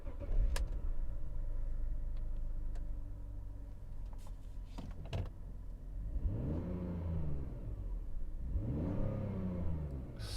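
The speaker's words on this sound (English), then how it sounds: "Let's fire up and behold the smooth" BMW E38 728i with its six-cylinder engine idling smoothly up close, then revved twice in rising and falling sweeps over a steady low rumble, with no voices.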